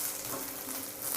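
Tomato dosa sizzling on a hot pan just after being flipped, a steady close frying hiss throughout the short moment.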